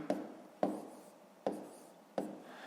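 Pen writing numbers by hand on paper, four short separate scratchy strokes spaced evenly, close and quiet, with no talk.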